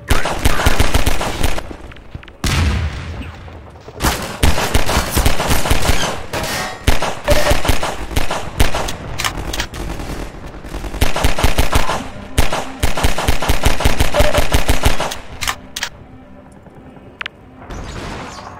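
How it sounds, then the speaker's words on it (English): Dense, loud bursts of automatic gunfire and single shots in a Half-Life 2 firefight, rapid cracking volleys that pause briefly before resuming and thin out toward the end. "Hey, are my allies shooting or the enemies?"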